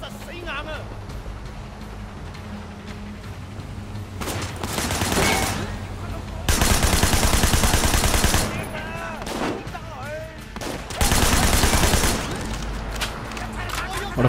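Bursts of gunfire in the video game Sleeping Dogs, with sustained loud volleys and scattered shots rising and falling over a busy game soundscape while someone talks over it.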